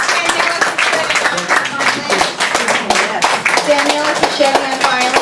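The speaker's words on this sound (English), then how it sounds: "give a round of applause as well" An audience claps for a company of Italian choir singers after a performance, with dense, steady applause running throughout while voices carry over the top.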